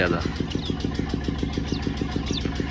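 A sawmill saw's engine thumps in a steady, fast rhythmic putter as it is given more throttle to push through damp planks, loud and close, with a voice talking over it.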